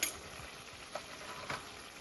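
Lobster tails fry in a pan with chili powder, pepper powder and garam masala, giving a soft, even sizzle with a couple of brief stirring scrapes, heard close and alone.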